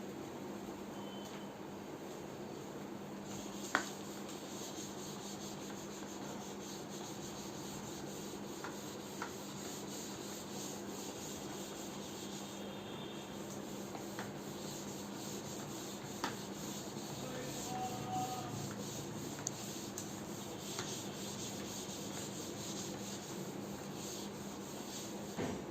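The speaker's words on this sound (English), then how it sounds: "I'll rub the board." A classroom board is rubbed clean in a steady, continuous scrubbing that runs without a break for about half a minute. A constant low background hum sits under it, with a few faint knocks.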